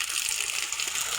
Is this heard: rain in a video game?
no